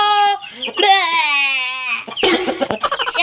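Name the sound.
black shamo chickens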